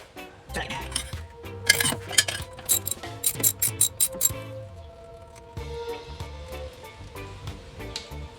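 A ratchet wrench loosens a 13 mm bracket bolt on a 1971 VW Super Beetle chassis, giving a quick run of sharp metallic clicks up close, then quieter shop background.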